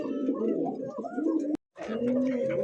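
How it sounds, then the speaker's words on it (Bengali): An Iranian pigeon coos close by in two soft, low phrases separated by a brief silent break, with no other sounds. "দেখতে পাচ্ছেন খুব চমৎকার ইরানি টগি একটা কবুতর"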